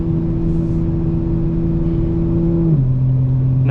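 A 2025 BMW M4 Competition xDrive engine holds a loud, steady droning tone heard close from inside the car, then drops sharply in pitch as the driver downshifts to engine-brake.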